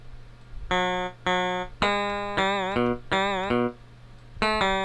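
Synthetic guitar-like notes played one after another, several bending up and down in pitch with a wobbling vibrato, clean and moderately loud.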